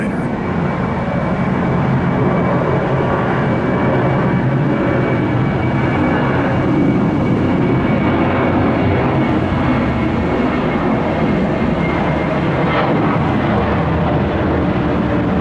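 A Norse Boeing 787 Dreamliner heavy jet landing at Orlando, a steady, loud broadband roar of jet engines that holds throughout with a slight swell midway, no voices.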